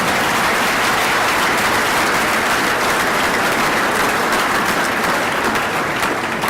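Sustained audience applause at a leadership forum, dense and even clapping from a large crowd filling the whole stretch without a break.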